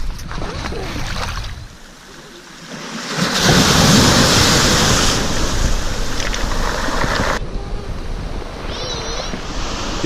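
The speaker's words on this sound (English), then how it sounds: "Oh, that's a big wave." Large ocean waves surge and break along a rocky northern shoreline, a broad roaring wash that swells loud in the middle and lingers, mixed with wind noise, with faint voices present.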